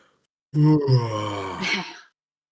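A single voice imitates a big old bear's yawn: a deep, drawn-out groaning moan of about a second and a half, close and fairly loud, rising slightly before trailing off.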